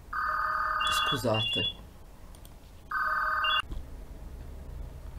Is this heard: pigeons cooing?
no